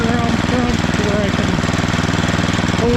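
A secondhand snowblower's small engine runs steadily at low RPM, loud and close, with a continuous throbbing drone and faint voices underneath.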